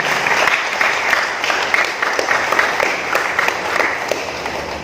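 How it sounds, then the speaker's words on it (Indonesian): Sustained audience applause fills a Hindu religious talk at a vocational high school gathering, a dense steady wash of many hands clapping at even loudness throughout, with no voice over it. "Tepuk tangan untuk agama kita."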